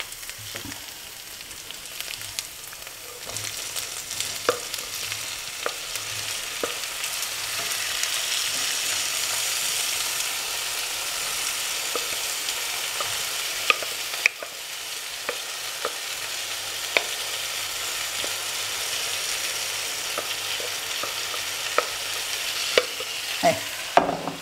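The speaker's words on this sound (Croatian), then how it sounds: "Sad kad je luk omekšao i počeo žutiti, dodajemo krompir." Potatoes frying in a pan with onion already softened and turning golden, a steady close sizzle with frequent scraping and stirring clicks throughout, no voices.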